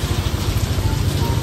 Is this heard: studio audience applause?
no